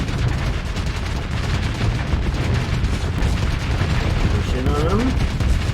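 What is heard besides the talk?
space battle gunfire in the video game Starsector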